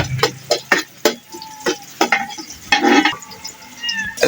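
Papaitan soup is stirred in a large cooking pot, giving repeated scraping, clanking strokes in an uneven rhythm with a soft sizzle underneath, close and moderately loud.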